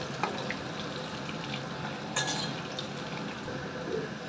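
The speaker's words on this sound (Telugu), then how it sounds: "ఇలా వేగుతున్నాయి కదండి" Bitter gourd slices fry in hot oil with a steady, dense crackling sizzle that holds at an even level throughout, with no voices.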